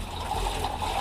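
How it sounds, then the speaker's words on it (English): Water draining steadily out of a flooded boat locker, a continuous close trickling wash with no voices over it. "Steve's managed to find the hole and it is draining"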